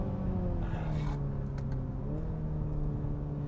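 A 2020 BMW Z4 sDrive30i convertible with an automatic transmission accelerating, its engine droning steadily from inside the car with a gradually rising pitch.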